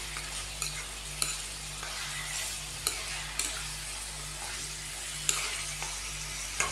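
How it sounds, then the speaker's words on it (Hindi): Beef frying in oil in a pot for aloo gosht, a steady dense sizzle with occasional scrapes and clinks of a stirring spoon throughout. "तो यहाँ पे हम पहले बीफ को 3 से 4 मिनट भून लेंगे, ऑयल के अंदर अच्छी तरह फ्राई कर लेंगे।"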